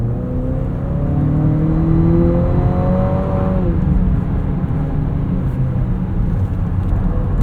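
A 2025 Nissan Murano Platinum AWD crossover accelerating in sport mode, its engine whirring and rising in pitch through a gear before settling into a steady loud drone with road rumble, heard from inside the cabin.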